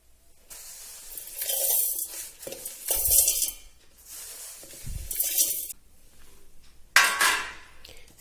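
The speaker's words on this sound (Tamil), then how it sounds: "இப்போ இதை ஒரு அரவை கிண்ணத்துக்கு மாத்திக்கலாம்." Roasted spices, including dry ginger, nutmeg and long pepper, are scraped and poured from a pan into a grinder jar. Several close, rustling, rattling bursts are separated by short pauses, with no talking.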